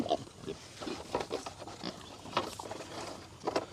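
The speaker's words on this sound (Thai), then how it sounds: "ฝั่งนี้น้องหมูก็จะ อ่ากินอาหารแล้วก็ดุดดุดดุดดุดดุดดด" Mixed-breed wild pigs eat from a feed tray with wet snuffling, chomping and soft grunts in irregular bursts, close and fairly quiet.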